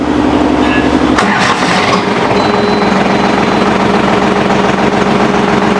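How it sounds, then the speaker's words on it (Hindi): A Sonalika 745 III tractor engine gives a loud, steady drone with a deep low rumble throughout, shifting slightly early on, then holding an even idle-like hum. "अभी आप लोग यहाँ पर देख सकते हैं ये जो ट्रैक्टर है इसकी आवाज़"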